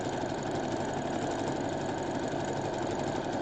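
A sewing machine stitches a zipper bag, a fast, even mechanical whirr with rapid ticking that runs steadily and close throughout.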